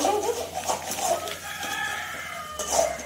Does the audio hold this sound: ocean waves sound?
no